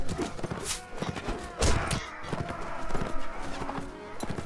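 Horse hooves pound in quick, uneven thuds amid a busy Mount and Blade Warband battle soundscape, with clattering impacts and a brief whinny.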